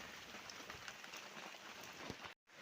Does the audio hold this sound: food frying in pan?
no